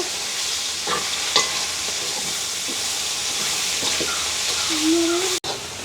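Leeks sizzle and sauté in a pan with a constant frying hiss, stirring scrapes and a few clinks over it, and a voice speaks briefly now and then.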